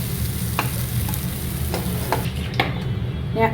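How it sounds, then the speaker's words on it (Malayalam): A banana mixture roasts in ghee in a pan with a dense, continuous close-up sizzle, broken by repeated scraping stirs of a spoon against the pan; no talking. "ഇതിപ്പോൾ ഒരുവിധം ആ നെയ്യിലിടുന്ന് റോസ്റ്റ് ആയിട്ടുണ്ട്."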